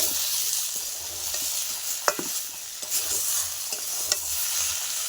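Whole spices and cumin powder sizzle in hot oil for a rohu fish curry, the steady frying hiss broken by occasional sharp scrapes and clinks of a spoon stirring the pan, close and fairly loud with no voices.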